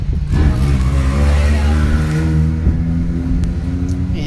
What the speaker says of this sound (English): He's in a Baja Bug.